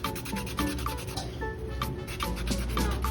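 Sandpaper of 220 grit rubs back and forth against a custom knife blade, a close steady rasping stroke repeating in quick rhythm with no talking.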